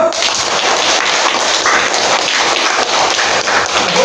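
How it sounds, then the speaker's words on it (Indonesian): An audience at a school lesson bursts into applause, a loud, close, continuous patter of many clapping hands with no speech. "Luar biasa ya, tepuk tangan dulu."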